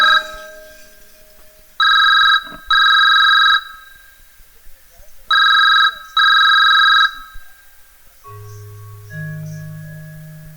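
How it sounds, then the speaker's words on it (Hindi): A telephone rings nearby in two loud double rings separated by a pause, followed by quieter low tones. "ठीक है मनोज तोरा ऑफिस ले फोन आया है बात कर"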